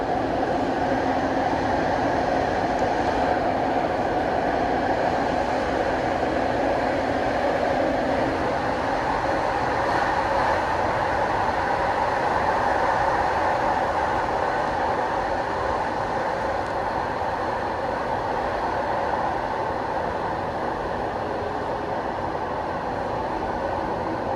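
Toronto TTC Line 5 Eglinton LRT train riding on rails between Oakwood and Mount Pleasant stations, heard from inside as a continuous loud rolling rumble with steady hum and no talking.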